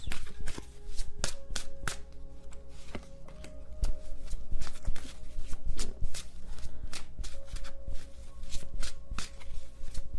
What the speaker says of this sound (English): I keep feeling like I need to shuffle this deck between uses